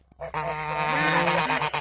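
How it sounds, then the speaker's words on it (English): Geese at a backyard bird pen let out a loud, continuous honking chorus for nearly two seconds, close by with overlapping harsh calls and no talk. "Stupid geese."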